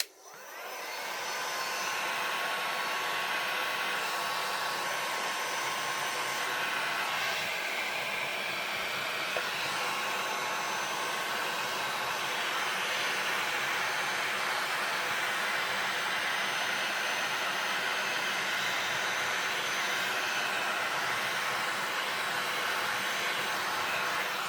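Heat tool blowing steadily to melt stamping embossing powder, a continuous loud, close whirring hiss that holds for the whole stretch with no talk.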